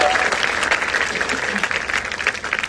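Live audience at a poetry recital breaking into dense, sustained applause, many hands clapping at once in a loud, continuous wash that carries on steadily throughout.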